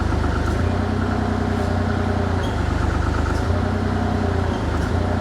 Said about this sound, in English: Probably really gonna hear the engine bog down on this.